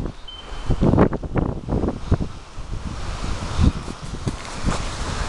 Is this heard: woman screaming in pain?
no